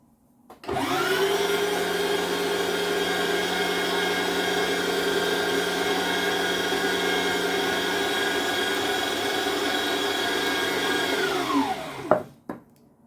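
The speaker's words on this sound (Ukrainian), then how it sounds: "Зараз я все перекрутю на м'ясорубку." An electric meat grinder grinding roasted vegetables, including eggplant, tomatoes, garlic and onion, hums steadily at a constant pitch for about eleven seconds, then winds down and stops with a small clatter.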